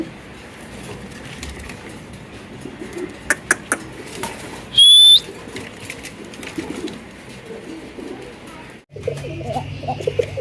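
Fancy pigeons kept in small cages at a wholesale seller's shop coo softly and intermittently against a busy background. There is one sharp whistle-like burst midway, and a low hum joins near the end.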